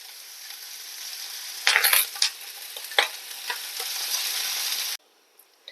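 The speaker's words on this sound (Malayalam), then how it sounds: "നല്ലോണം വഴറ്റി കൊടുക്കാം" Chopped onions and curry leaves sauté in a pan with a steady close sizzle, broken by a few sharp spatula scrapes and stirs, before the frying sound cuts off near the end.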